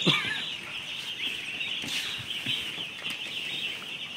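A dense, continuous chorus of chicks peeping on a poultry farm, high and steady throughout with a few louder chirps standing out, and no talking.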